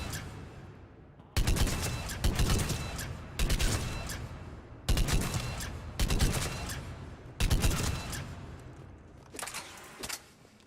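Argus burst-fire rifle in Mass Effect 3, loud close volleys of rapid shots fired in five or six distinct bursts with short pauses between, ringing tails after each.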